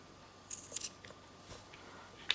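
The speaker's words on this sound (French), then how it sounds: "je coupe toutes les fils à 50" Scissors snipping bracelet threads, a few quick, crisp metallic cuts spaced apart, close and fairly faint against a quiet room.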